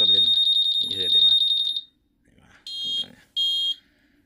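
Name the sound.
Honda Click 150 motorcycle alarm sounding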